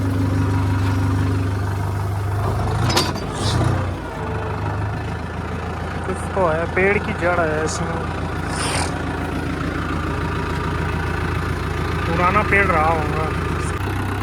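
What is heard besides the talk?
4-wheel tractor engine idling while ploughing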